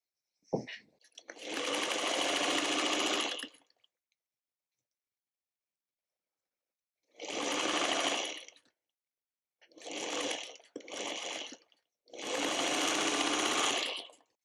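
A sewing machine stitches fabric D to the left of a tulip block's center in a quilt, running in four separate bursts, first a long run, then after a silent gap a short run and two quick back-to-back bursts, ending in a longer run.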